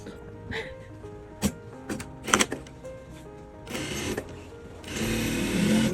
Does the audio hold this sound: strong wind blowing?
no